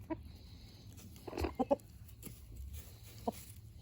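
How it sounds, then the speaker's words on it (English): A homestead rooster clucks in a few short, soft bursts, some doubled, against a quiet low background hum, with no one speaking. "Who takes their rooster to the vet?"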